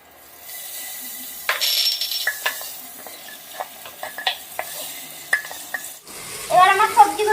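Vegetables and tomato fry in a pressure cooker while being stirred: a steady soft sizzle runs under repeated sharp clinks and scrapes of a spoon against metal, with a brief louder burst of clatter near the end.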